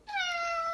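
A human voice imitates a cat, giving a single drawn-out meow that is clear and fairly loud, with no other sound around it.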